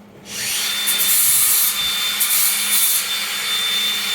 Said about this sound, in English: Grind it like Right. that. Yeah, I'm taking the peak off.